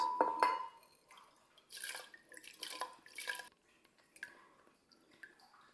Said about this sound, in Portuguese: agora vou despejar aqui o nosso arroz